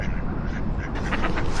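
Ducks quack in a rapid run of nasal calls, close and loud, over steady outdoor wind and background noise.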